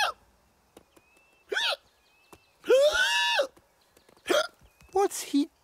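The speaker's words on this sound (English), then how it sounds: "Now Talbot has the hiccups." A cartoon character in a jungle animation hiccups in loud, squeaky bursts, about five separate hiccups spaced unevenly across a few seconds, each short and bright with little else around them.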